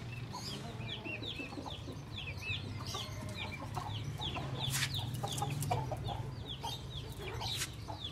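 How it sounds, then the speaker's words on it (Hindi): An aseel rooster just let out of its cage clucks repeatedly among other farm chickens, short fairly close calls over a steady low background hum. "नया मुर्गा लाया है वालिद ने, वो दिखाने के लिए भी उसको पिंजरे से बाहर लाए।"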